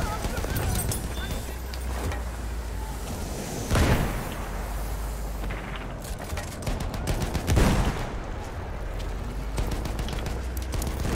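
Bursts of video game gunfire crackle through a busy online match, with two louder volleys standing out amid steady background shooting while players talk over the action.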